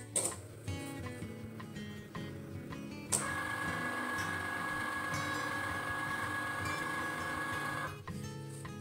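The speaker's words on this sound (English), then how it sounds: "Get the Cricut turned on." A Cricut vinyl cutting machine runs with a steady mechanical whir, preceded by a few ticks and clicks before the motor settles into a continuous close hum for several seconds, then stops.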